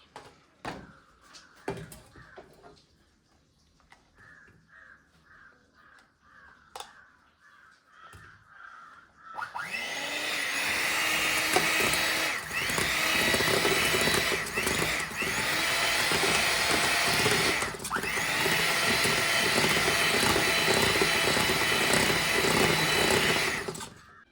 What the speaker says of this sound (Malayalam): ഇനി നമുക്കിത് ബീറ്റ് ചെയ്തെടുക്കാം